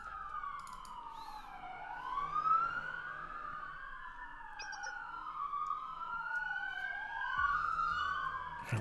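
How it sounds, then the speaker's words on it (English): Police sirens sound outside in the Blue Archive video game, several wailing tones sweeping up and down and overlapping one another continuously, heard from a moderate distance with no talk. "A lot of sirens outside."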